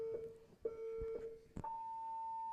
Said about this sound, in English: Listen for a beep.